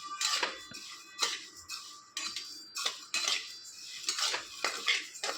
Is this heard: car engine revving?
no